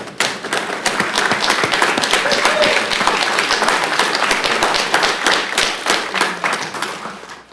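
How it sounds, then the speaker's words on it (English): Steady, dense applause from a crowd at a county commissioners meeting, loud and sustained for several seconds before tapering off at the end. "Let's give them a round of applause."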